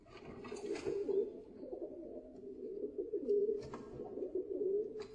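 Barred pigeon, an old domestic breed, cooing in low, throaty, repeated phrases that swell and fade in a steady rhythm, close and fairly loud with no talking.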